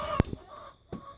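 A young pullet hen gives a few short, close clucks, one sharp call followed quickly by a softer one and then a last cluck after a pause.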